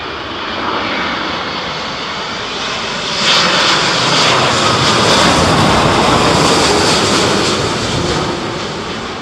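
An airliner lands at Heathrow Airport in strong storm winds, its jet engines roaring loud and close throughout, swelling midway as it comes in, with wind noise and no speech.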